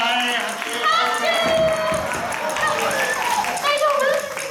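A festival audience claps for a Kumamon performance of Higo chonkake koma top tricks, with lively clapping and excited voices and children's chatter over it.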